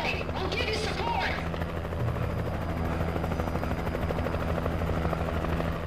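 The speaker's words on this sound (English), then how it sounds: "Oh, there's a helicopter." A helicopter in the game Alan Wake thrums steadily with a loud, continuous rotor drone, joined by brief scattered higher sounds early on.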